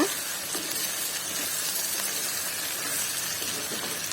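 Raw mango pieces sauté in a pan for pickle, giving a soft, continuous sizzling hiss at low, even volume with no talk.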